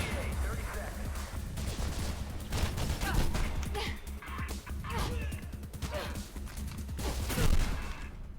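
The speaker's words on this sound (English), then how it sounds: "And I get shotgunned in the back of the head." Shotgun blasts ring out in rapid bursts during a Mirror's Edge firefight, loud sharp reports repeating across the stretch with someone talking between shots.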